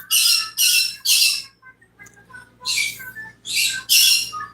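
Pet conure parrots screech in loud, harsh bursts, three in quick succession, a short pause with softer chirps, then three more piercing squawks close by.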